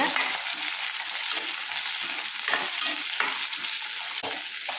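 Vegetables for Tamil-style arachuvitta sambar stirred in a sizzling pan, a steady broadband frying hiss with soft scraping strokes of the spoon repeating irregularly throughout, close and fairly loud, no talking.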